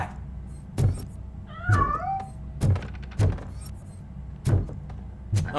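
A cat meows in the Robocop: Rogue City video game, a wavering, drawn-out cry heard once amid repeated low thumps and clanks of game movement, fairly close and clear with no talking over it.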